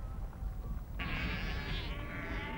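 A sheep bleats on a Falkland Islands farm where huge numbers of sheep are kept for shearing, one fairly loud wavering call rising from a faint, muffled outdoor background.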